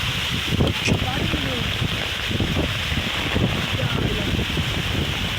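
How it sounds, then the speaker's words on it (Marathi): Strong wind on a trip through the Konkan countryside roars and buffets the microphone in a constant, close rush, with voices talking under it. "फुल वादळ आहे फुल वारा"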